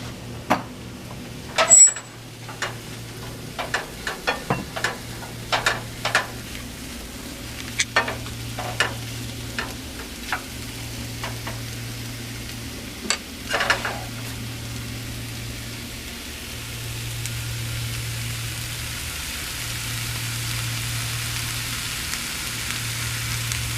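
Mushrooms and shallots sauté in a pan for risotto, a quiet continuous sizzle with scattered clicks and taps of a utensil early on, over a low steady hum.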